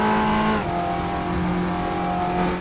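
An Audi TT Cup race car engine in Raceroom on push-to-pass, a loud steady high rev that dips briefly at a gear change and then holds its drone.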